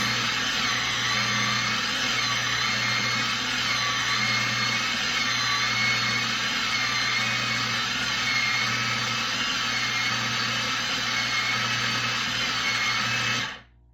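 A Pampered Chef food processor chops salmon with a loud, steady motor whir and a chopping rattle. It runs nonstop for about thirteen seconds and then cuts out.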